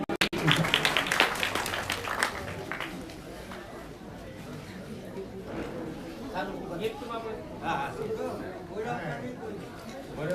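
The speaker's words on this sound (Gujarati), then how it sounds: "જોરદાર તાળી એમને." An audience at a primary school ceremony applauds to honour guests, with dense, fairly loud clapping at the start that thins into a steady patter under ongoing chatter and voices.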